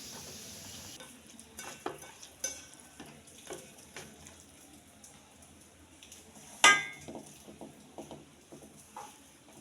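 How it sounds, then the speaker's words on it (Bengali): Black cumin paste being mixed by hand with onion and chili, a soft wet squelching and patting in irregular bursts, with a few light taps and one louder clack against the bowl. "তাই তো আমি পেঁয়াজ মরিচ দিয়ে সুন্দর করে মাখিয়ে নিচ্ছি"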